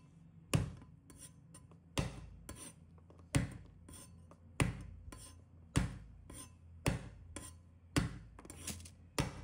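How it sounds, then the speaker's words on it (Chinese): A knife blade smacks down on garlic cloves to crush them, a regular series of sharp thuds and rasps at roughly one-second intervals on a board, close and fairly quiet with no voices. "趁这个时间，准备1把大蒜，把它拍碎"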